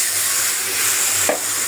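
Fish bones fry in a pan with a steady, loud sizzling hiss, briefly interrupted by a short scrape of stirring near the end.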